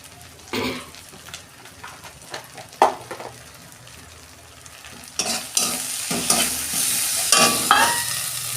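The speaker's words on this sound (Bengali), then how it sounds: "অল্প জল দিচ্ছি। মশলাটা ভালো করে কষে নেব।" Spice masala for a Bengali fish roe dish frying in a pan with a little water, steady sizzling under repeated stirring scrapes, the hiss swelling louder in the second half.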